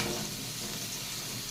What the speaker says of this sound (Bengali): বেগুনটাকে ভেজে তুলে নিলাম।